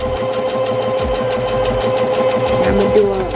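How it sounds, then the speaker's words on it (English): A sewing machine stitching fabric for an upcycled thrift-store outfit, running in a fast, steady mechanical rattle with a low motor hum, close and loud. "So now we're gonna sew."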